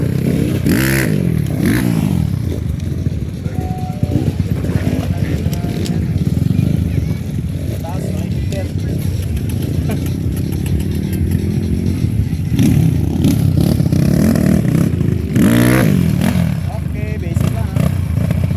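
Enduro motorcycle engines rev and rumble steadily throughout at an enduro race in Maasim, Sarangani Province, with several sharper throttle bursts, while voices talk over the noise.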